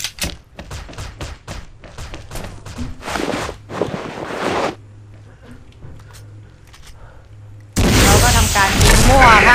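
Gunfire in a shooting video game: a quick string of sharp shots and booming impacts, then a quieter pause and a loud, dense burst near the end, with a player talking over parts of it.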